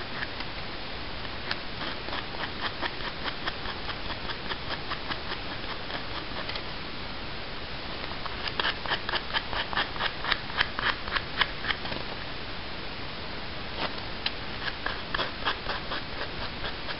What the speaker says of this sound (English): With this one here, I'm just going to lightly sand the edges.